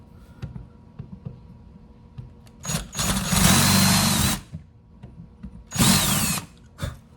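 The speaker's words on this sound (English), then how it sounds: "I just recessed it a little bit with a larger bit, just so the screw head will sink down into there" A power drill recesses a screw hole in wood with a larger bit for a bar top pizza stand, with two loud, close whirring bursts of a few seconds each, separated by quiet handling sounds.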